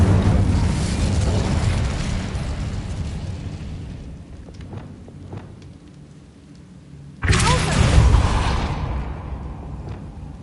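An Incendio fire spell cast in the Hogwarts Legacy video game, a loud rushing burst of flame that fades, a few faint thumps, then a second sudden whooshing blast.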